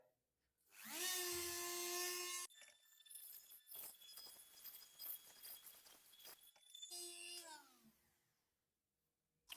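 A handheld rotary engraver fitted with a diamond cutting disc spins up with a high whine, then grinds steadily through tile. The motor winds down and spins up again, ending in near silence.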